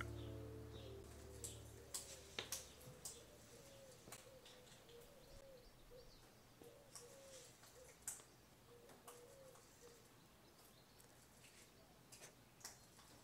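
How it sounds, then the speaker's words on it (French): Sharp, irregular tapping and cracking knocks of a thrush breaking a snail shell repeat outdoors, faint and close, while a pigeon coos steadily in the background. "C'est une grive qui casse un escargot."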